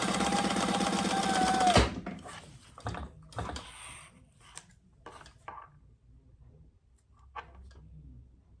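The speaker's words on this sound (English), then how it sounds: "So I'm going to top stitch that." A sewing machine top-stitches a fabric wallet with a fast, continuous mechanical whirr for about two seconds and then stops, leaving faint clicks and handling taps of the fabric and machine.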